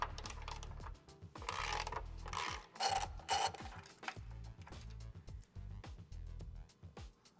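Bracket bolts being loosened and removed from a Rivian R1S running board, with close ratcheting clicks, rasping turns and metallic clunks in uneven bursts.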